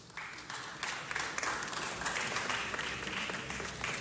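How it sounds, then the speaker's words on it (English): A city council meeting audience gives an honoree a round of applause: brisk, close clapping from a modest crowd, steady throughout after a quick start. "Big round of applause for Ms. Ramos"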